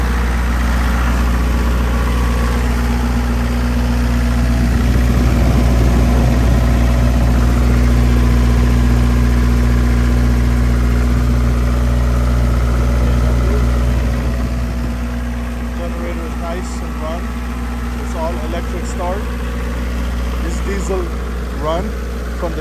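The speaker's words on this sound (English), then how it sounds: "Here's the generator in the back" A 20 kW generator mounted in the back of a 2003 Freightliner MT-55 mobile medic truck runs at a steady, heavy low drone and hum, loud and close, with someone talking over it.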